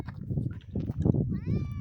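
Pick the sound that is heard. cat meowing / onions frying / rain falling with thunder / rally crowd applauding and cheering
cat meowing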